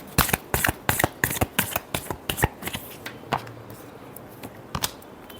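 A deck of tarot cards gets shuffled close up in a rapid series of crisp riffling slaps and flutters, which thin out toward the end.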